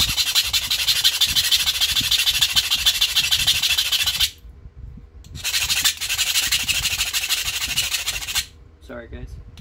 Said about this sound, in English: Gonna file this to a point.